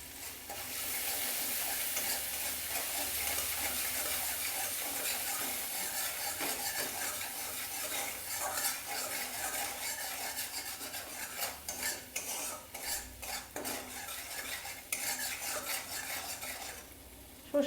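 Mustard frying in a pan for a katla fish gravy makes a steady, fairly quiet sizzle, broken by repeated scraping stirs of a utensil that grow choppier toward the end.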